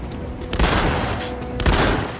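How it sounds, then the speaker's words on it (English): Two loud, booming shotgun blasts in the action game Uncharted: The Lost Legacy, about a second apart, over a dense background of gunfire and game noise. "Three shots with a shotgun to get him?"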